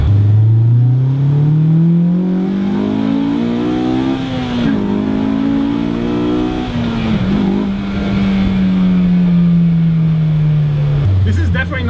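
An S2000-engined AE86 Corolla drives and revs hard, its engine note rising steadily through the gears with brief dips at shifts, loud and close throughout with some wind and road noise.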